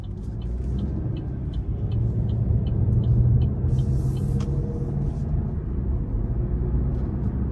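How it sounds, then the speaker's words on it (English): A 2025 Buick Envista Avenir with its 1.2-litre turbo three-cylinder accelerating, heard from inside the cabin as a steady, low engine and road rumble that swells slightly midway. "you should be pleasantly surprised by how much power this does have when you put your foot in it."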